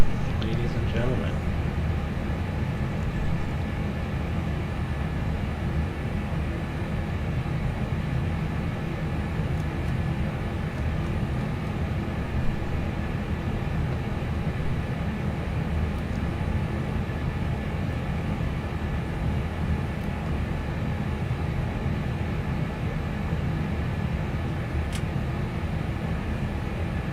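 Steady engine hum of an Edelweiss A340-300 airliner taxiing at Prague in Microsoft Flight Simulator 2024, a constant broadband rumble with no distinct events, holding level throughout.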